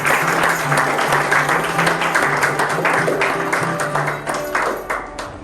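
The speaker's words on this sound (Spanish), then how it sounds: "Fuerte aplauso al Señor en esta mañana" Sustained applause from a church congregation at a Sunday morning celebration service fills the space, steady and loud throughout, with faint singing or music tones running underneath.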